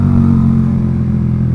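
A Yamaha R15 V3 single-cylinder motorcycle fitted with a Proliner racing exhaust idles loud and close with a deep, steady throbbing drone and a slight dip in pitch.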